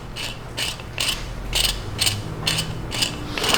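Rapid, rhythmic ratcheting clicks come in regular bursts as the threaded cap of an HDM 1050 Protector is unscrewed by hand, close and crisp over a faint low hum.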